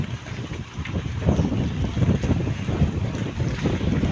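A small fishing boat's motor drones steadily on the water during an ice-loading trip. Wind buffets the microphone throughout, and the sound is fairly close and continuous.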